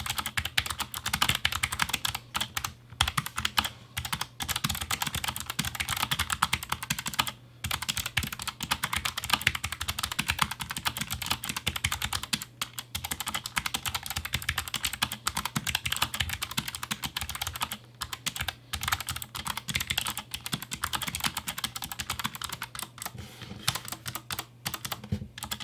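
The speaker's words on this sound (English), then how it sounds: "Right here I have the GL clicky switches, which do have a non-irritating click sound" Steady, continuous typing on a Logitech G915 TKL low-profile mechanical keyboard with GL clicky switches, dense rapid keystrokes and crisp clicks throughout, close and clear with no talking.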